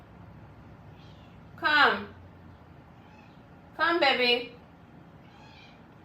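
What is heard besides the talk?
pet cat meowing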